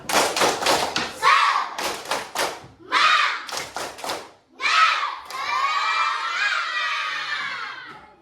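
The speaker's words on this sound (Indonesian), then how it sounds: "sebelum dia kita semangat, tepuk semangat" A school class of children performs a rhythmic clapping chant, tepuk semangat, with loud bursts of clapping and shouted chanting in quick patterns, ending in a sustained group cheer close by in a classroom.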